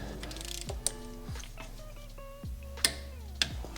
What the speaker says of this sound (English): Got my torque wrench set to 22 foot-pounds, which is what the spec is.